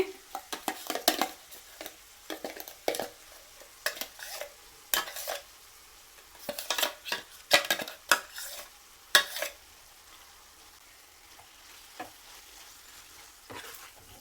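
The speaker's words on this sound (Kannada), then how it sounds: "ರುಬ್ಕೊಂಡಿರೋ ಮಸಾಲೆ ಹಾಕ್ತಾ ಇದ್ದೀನಿ ಇದಕ್ಕೆ" Ground masala is added to bitter gourd frying in a pan and stirred, producing repeated scraping stirs and clinks of a utensil against the pan over a soft sizzle, with the bursts thinning out toward the end.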